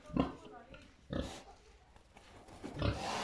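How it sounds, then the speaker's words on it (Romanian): Pigs, a sow and a boar, on a countryside farm giving a few short grunts and snorts close by, spaced in bursts among low background noise. "Uitați porceaua cu un vier acolo."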